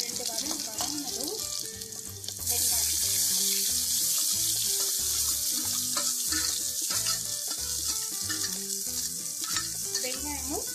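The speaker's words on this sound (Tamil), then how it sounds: "கொஞ்சம் நல்ல சோம்பு பொரியட்டும்" Fennel seeds fry in a pan with a bright sizzle that swells louder after a couple of seconds, heard alongside busy background music with a steady beat.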